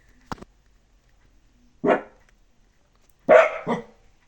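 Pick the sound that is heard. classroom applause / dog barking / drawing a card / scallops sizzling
dog barking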